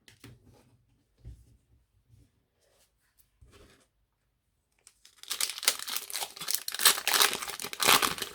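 The paper wrapper of a Pokémon trading card pack from an Elite Trainer Box is torn and crinkled open in a loud, close burst of ripping after a few seconds of quiet, faint handling.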